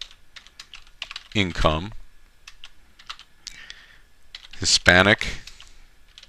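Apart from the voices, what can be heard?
typing a search on a computer keyboard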